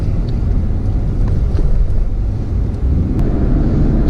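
A Suzuki Bandit motorcycle engine running after a JLT intake and tune, a loud steady low rumble heard while riding, mixed with heavy wind buffeting on the microphone.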